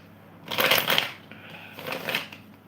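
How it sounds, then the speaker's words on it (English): Tarot cards are shuffled in two close, crisp riffling bursts with a short pause between them, alone and near. "Did I not shuffle the cards yet?"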